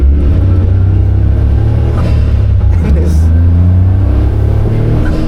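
A Caterham Seven sports car on a road, its engine droning low and loud from inside the cockpit with steady rumble and mild rises in revs, while a voice talks over it.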